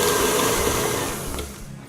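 Electric mixer whirring steadily as it beats dairy-free profiterole choux batter toward a smooth, shiny texture, a continuous close motor drone that eases slightly toward the end.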